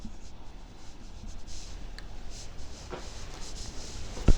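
Math being written by hand on a board or paper, soft scratchy strokes in short bursts, close and quiet, ending with a small tap.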